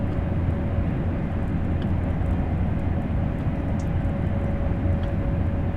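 Train engine under throttle in the video game Train Sim World 3, a steady, loud low drone with a faint whine, continuous with no talk.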